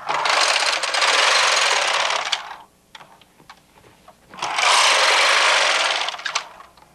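A knitting machine works a sweater neckband in ribbing, its carriage making two long, loud, even rushing passes separated by a pause filled with scattered clicks and taps.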